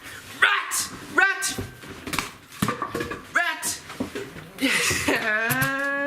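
A dog barks indoors, several sharp separate barks spaced through the scene and a longer whining bark near the end, mixed with someone talking and laughing.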